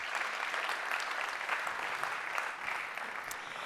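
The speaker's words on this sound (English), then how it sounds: "That's an applause." Summit audience at the opening of a global conference breaking into applause, a full, even wash of many hands clapping steadily throughout with no talk.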